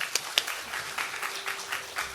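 Audience applause after a talk at a Jeju Biennale pre-conference, moderate clapping from a seated crowd, steady and fairly soft, with a couple of sharper claps near the start.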